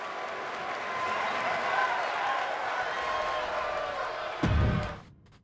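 A wrestling arena crowd in the video game WWE 2K25 roars and cheers in a steady, loud wash that swells briefly near the end before cutting off.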